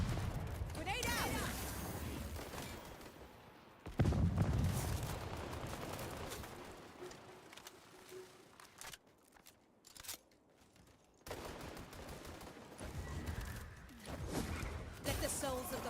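Video game gunfire against Darkspawn foes, with loud clattering bursts and booming impacts that come and go, mixed with game noise and some quieter stretches, while people talk throughout.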